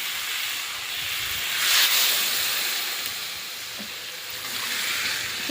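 Water hits a hot pan of fried cumin and coriander paste for a taro and prawn curry, releasing a loud, continuous steam hiss that swells and eases a couple of times, with no talk.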